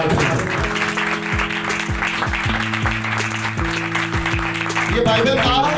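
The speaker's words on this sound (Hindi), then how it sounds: "आए जोर का तालियां खुदा के दरबार में।" A congregation at a church service claps along with music, rhythmic claps over sustained organ-like tones and a steady beat, loud and close.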